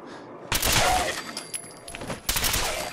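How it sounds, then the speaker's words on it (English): Bursts of rapid gunfire from a gun firing explosive rounds at a zombie in Fallout 4, two loud clustered volleys with sharp cracks and booming impacts, separated by a short lull. "there's a zombie to test this gun on"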